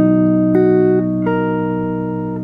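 A solo guitar chord is released and left ringing, its notes sustaining together with a couple of soft changes and slowly fading, close and clear, with no talking.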